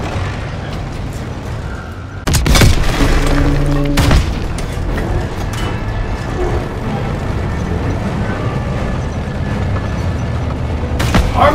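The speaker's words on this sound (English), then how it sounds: "Armor shooting us in the rear!" Heavy booming cannon blasts from a German Panzer tank in a Call of Duty: WWII battle, with a loud blast around two seconds in and another near four, followed by sustained rumbling combat noise and scattered later impacts.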